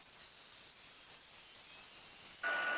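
A steady, airy hiss of a heat embossing tool blowing continuously, fairly loud and unbroken, with a slight change in tone near the end.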